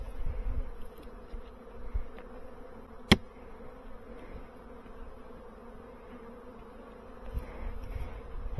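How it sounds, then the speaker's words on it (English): Honeybees flying around an opened hive coming out of winter, a soft, steady buzzing hum of many insects close by, broken once by a sharp click. "As you can see in here from all the bees flying around"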